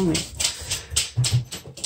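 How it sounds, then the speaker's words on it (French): Two pet dogs play noisily indoors, with repeated scrabbling, panting and thumping bursts in a busy rhythm, close by, while someone speaks over them. "Mes chiens font du bruit, je suis sûre que vous les entendez."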